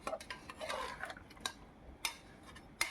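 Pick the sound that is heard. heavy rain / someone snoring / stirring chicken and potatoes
stirring chicken and potatoes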